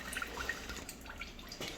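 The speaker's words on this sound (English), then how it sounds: "I've just been squeezing this line to try to promote any more fluid getting out." Fluid from a disconnected main line on an SRT6 Chrysler Crossfire drips into a bucket, with a few faint, quick, close drips spaced irregularly over quiet background noise.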